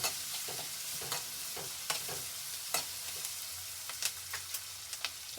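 A chilli fries in oil in a pan for bisi bele bath, giving a soft, continuous sizzle nearby, broken by a series of light clinks and scrapes of a spoon stirring against the metal, with no talking.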